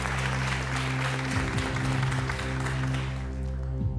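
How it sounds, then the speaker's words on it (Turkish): Audience applause at a Quran recitation contest fills the room, dense steady clapping that holds throughout before thinning slightly at the end. "Alkışlarınız Ercan Efiloğlu için"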